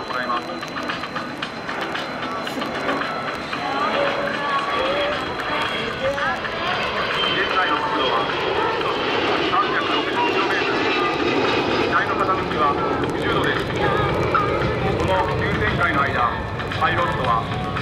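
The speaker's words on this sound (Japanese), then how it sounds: "6番機はこれから滑走路上空で横水平方向に8の字を描く" A Kawasaki C-1 transport aircraft flies steep figure-eight turns over the runway at an air show, its engines roaring loud and steady throughout while an announcer talks over the sound.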